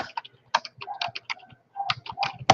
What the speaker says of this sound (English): Let me just type it in.